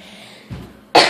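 A single short cough breaks a quiet moment, followed by a louder, sharper cough close up.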